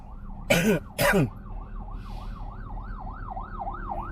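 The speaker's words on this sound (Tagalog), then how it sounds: "ambulansya yan, wala tayong magagawa, may karapatan talaga yan" An ambulance siren wails in a steady rising-and-falling pattern in city traffic in Imus, with two sharp coughs near the start over background traffic rumble.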